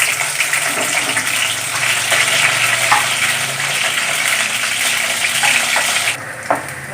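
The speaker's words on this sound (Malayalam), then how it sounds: "കുറച്ച് നേരം ഒന്ന് ഇളക്കി കൊടുത്തു കഴിഞ്ഞാൽ പെട്ടെന്ന് വാടി വയ്ക്കും." Chopped okra sautés in coconut oil in a hot pan, giving a loud, continuous, even sizzle with faint stirring clicks underneath, easing slightly just before the end.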